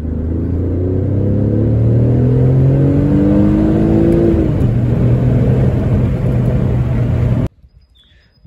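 A 2003 Alfa Romeo 156 GTA with a transverse naturally aspirated 3.2 V6 revs up close and loud, pitch climbing and then holding before cutting off abruptly into near silence.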